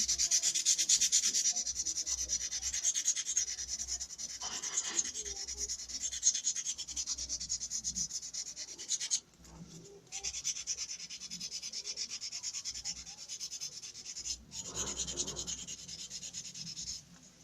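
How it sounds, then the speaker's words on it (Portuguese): Sandpaper rubs back and forth by hand in steady, close strokes, a dry rasping hiss that pauses briefly twice before resuming. "Aqui a gente lixa, tá?"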